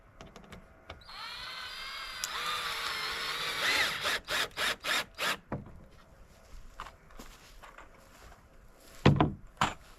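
A power drill drives screws into wooden boards for a shed's barn-style doors, a sustained whining run of about two seconds followed by a rapid series of short bursts, then a louder thump near the end.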